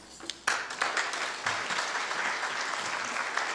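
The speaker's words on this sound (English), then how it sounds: "That's a round of applause for Leigh Greaves" A conference audience at a small community solutions event starts clapping abruptly after a brief quiet moment, building into sustained, fairly close applause from many hands.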